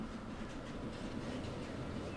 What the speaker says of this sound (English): Other train going in there.